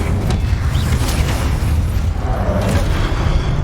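A roaring Incendio fire spell blast in the video game Hogwarts Legacy, loud and sustained with a deep rumbling boom, no talking.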